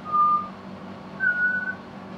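Two clear, pure whistled notes from a butcherbird, each held briefly with a pause between, over a low steady hum, aboard a boat.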